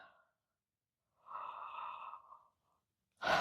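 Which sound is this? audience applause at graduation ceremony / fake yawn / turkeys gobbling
fake yawn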